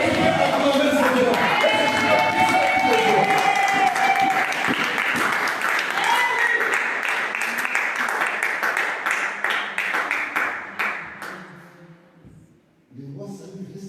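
A church congregation applauds and cheers loudly for a long stretch, a dense wash of clapping and shouts that gradually thins and fades near the end, with a preacher's voice briefly returning.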